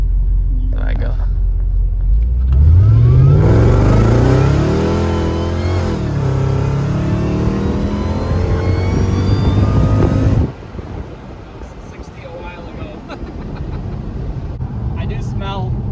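A Mercedes E55 AMG accelerates hard, its engine rising in a loud rumbling surge and climbing through the revs for several seconds before dropping back to a quieter cruising drone heard from inside the car.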